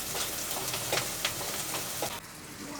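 Onions fry in a pan with a steady close sizzle and faint crackles, continuous throughout and without any voices.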